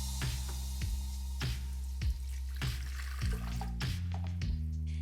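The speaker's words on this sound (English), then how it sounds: "boil your water, then pour it into your blender" Freshly boiled water splashes in several separate pours into a blender jug for a keto vanilla latte, each burst followed by a ringing tone that shifts as the jug fills. Close and clear, with no speech.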